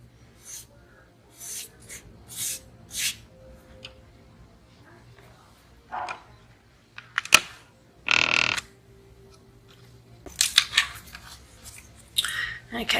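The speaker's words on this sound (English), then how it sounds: "tie off a knot, and cut the string down" A pair of scissors makes several short, crisp snips while cutting string after a knot is tied, with quiet gaps between the cuts in an otherwise still room.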